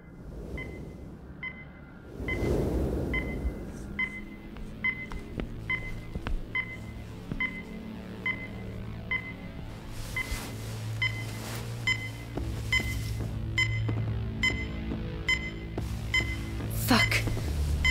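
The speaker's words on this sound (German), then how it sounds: "Ist das ein Wecker?" An alarm clock beeps in a repeating pattern of short electronic tones, evenly spaced and moderately faint, continuing throughout over low background noise and a few other sounds.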